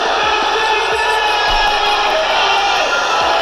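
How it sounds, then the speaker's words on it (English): A dense, loud crowd roaring and cheering continuously, a wall of many voices with no breaks from start to finish. "Yeah, that crowd was going."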